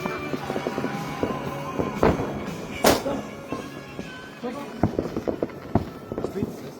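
Fireworks and firecrackers pop and bang at varying distances, a few sharp close cracks among fainter bursts, with people chatting and moving around nearby.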